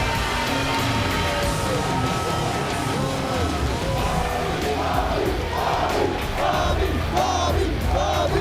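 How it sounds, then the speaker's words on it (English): A roaring wrestling arena crowd at a TNA Impact show cheers loudly and steadily, with whoops and chants rising over the dense noise throughout. "Listen to that crowd."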